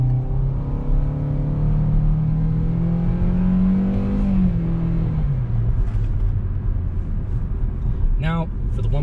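A 2020 Hyundai Venue with the 1.6 engine accelerating in sport mode, its engine note climbing steadily in pitch then dropping at a gear change, heard from inside the cabin with a brief voice near the end.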